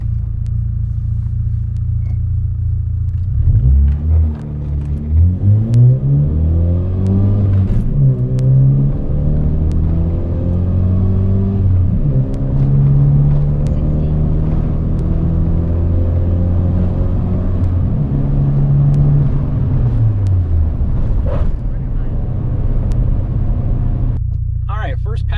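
Car pulling away from a standing start, loud and close, with the engine note sweeping up through several rising gear pulls over about twenty seconds before easing off, a low rumble underneath throughout.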